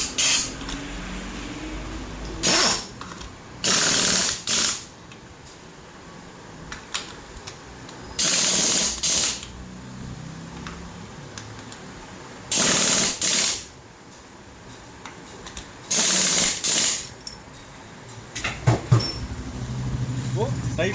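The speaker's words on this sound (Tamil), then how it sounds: "இப்போ நம்ம வந்து ஸ்பாக்கெட் நெட்டை டைட் பண்ணிடலாம்." Ratchet wrench tightening the chain sprocket nut on a motorcycle, heard as several short bursts of rapid clicking spaced a few seconds apart, with someone talking between them.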